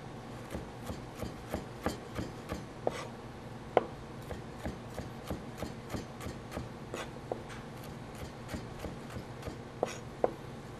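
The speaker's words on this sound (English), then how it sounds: "we're just going to cut these into some nice little julienne strips" Knife on a cutting board slicing vegetables into thin julienne strips, a steady series of crisp, evenly spaced chops close by with a few sharper knocks, no talking.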